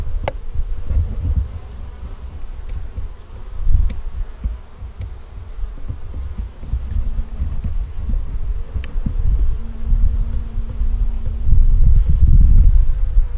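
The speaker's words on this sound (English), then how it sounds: "A lot of bees in there." Bees buzz around a robbed-out nucleus hive with few bees and a queen left, a close, continuous droning hum with low rumbling handling noise.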